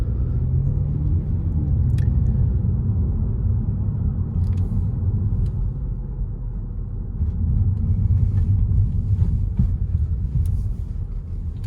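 Steady low road rumble from an Audi S3 with 310 hp driving over a badly damaged, rough road, a continuous loud drone with slight swells and occasional faint knocks, no voices.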